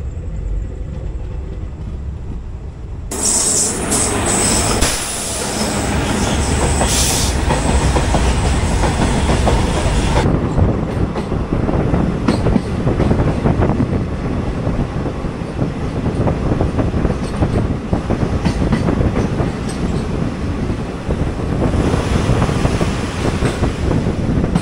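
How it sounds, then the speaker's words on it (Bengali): The Uttar Banga Express on the Kolkata to NJP route runs on after leaving a station, a loud close interior roar of wheels with steady clickety-clack rhythm building and continuing throughout. "তো এই যে ছেড়ে দিয়েছে ট্রেন"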